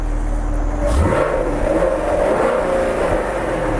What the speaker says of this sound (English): It should rev up a little faster